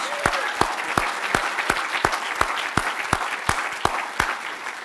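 At an annual legislative breakfast, a round of applause plays under a few crisp, evenly spaced claps that stand out in a steady rhythm over the softer crowd clapping.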